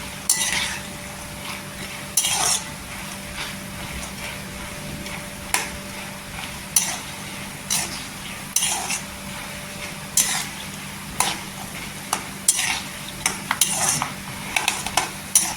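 Peanuts slow-fry on low heat in a pan for murmura chiwda, a steady faint sizzle under repeated metallic scrapes and clinks of a spoon stirring against the pan.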